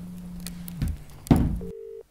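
A telephone line tone: a steady low hum broken by a few clicks and bumps, then a short higher beep before it cuts to silence, close and fairly quiet.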